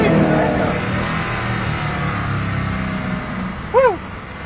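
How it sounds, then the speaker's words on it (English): A Koenigsegg Agera R on a race track roars with a sustained engine drone that gradually eases, then a short excited vocal whoop rings out near the end. "So that's the Agera R on a track."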